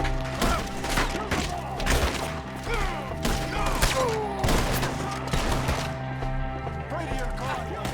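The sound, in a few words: gunfire in Red Dead Redemption 2 video game shootout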